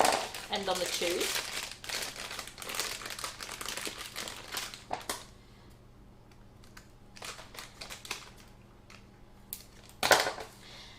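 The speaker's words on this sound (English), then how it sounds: "I'm just going to feed it very carefully into the bottom of the piping bag and just cut off to where the points end on the tubes." Plastic piping bag crinkling and rustling up close as a nozzle is fed in and the tip snipped off, with busy handling noise at first, then quieter scattered clicks and a final crisp rustle.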